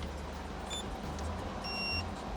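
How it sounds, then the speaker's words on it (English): A Mercedes Sprinter van's alarm gives short, thin electronic beeps, a few brief tones spaced apart over a steady low engine or interior rumble. "It's something to do with the alarm."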